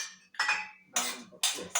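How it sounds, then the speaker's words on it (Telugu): Almonds drop into a pan of phool makhana, sharp hard clinks and rattles in three or four separate bursts, each ringing briefly against the metal, close and fairly quiet with no talking. "ఇప్పుడు మనం బాదం పప్పులు వేసుకుందాం."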